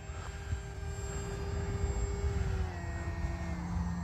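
A Hobbyzone Aeroscout S RC model airplane motor hums steadily at a distance during a touch-and-go, its pitch slowly sliding lower as it passes, with no talking.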